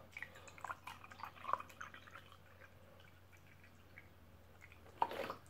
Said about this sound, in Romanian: Iar apoi punem apă. O să bag lingura aici pentru că mierea se dizolvă mai greu